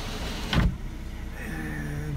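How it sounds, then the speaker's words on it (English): Motorised panoramic sunroof on a Kia Sportage tilting open inside the cabin: a short mechanical clunk, then a quiet electric motor hum that runs steadily to the end. "Now this, you can see, will open to let the light into the cabin and a bit of air into the cabin, or you can just have this on a tilt."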